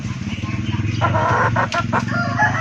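Pet chickens and ducks on a farm at feeding time, with a rooster crowing and hens clucking close by in a short burst of lively calls.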